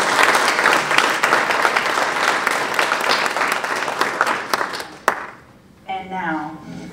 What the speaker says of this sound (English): we should definitely give a round of applause to all of the teachers here tonight